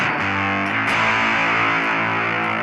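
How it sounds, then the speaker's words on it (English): Thick, buzzy fuzz-drenched electric guitar through a BOSS GT-1000, neck pickup, holding a sustained chord, loud and saturated throughout, with no talking. "And I've put a fuzz on here."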